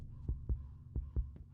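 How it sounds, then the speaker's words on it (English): A heartbeat effect in the horror video game Duder: soft, low double thumps repeating in a steady rhythm, quiet and close over a faint hum. "So my heartbeat doesn't seem to go up while I'm sprinting."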